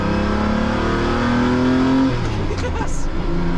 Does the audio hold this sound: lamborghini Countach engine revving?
yes